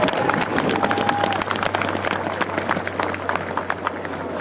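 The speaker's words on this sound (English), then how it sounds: "Please give them a big round of applause." Audience at a 2015 Air Force airman graduation ceremony applauds the standing military training instructors, a dense, steady wash of many hands clapping in a large hall, with crowd noise and a faint voice underneath.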